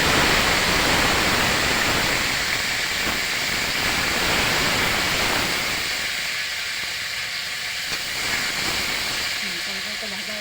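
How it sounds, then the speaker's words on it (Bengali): Tomatoes dropped into hot oil with cumin seeds sizzle loudly in a pan, a dense steady hiss that gradually softens as the frying settles. "এখন টমেটো দিতে হবে।"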